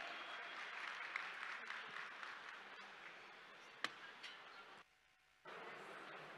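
Audience applause at a business event as Worldef co-CEO Kemal Payza walks on stage: a dense, sustained wash of clapping from a crowd, steady for several seconds before breaking off briefly and resuming.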